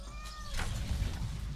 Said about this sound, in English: So I'm joined by my co-host Midna, my cat.